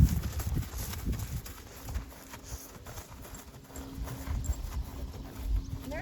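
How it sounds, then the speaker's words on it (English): A ridden horse trotting in a circle, hooves clip-clopping in a quick, steady rhythm at moderate distance, fairly faint, with no talking. "I'm going to trot him one more time in kind of a circle here"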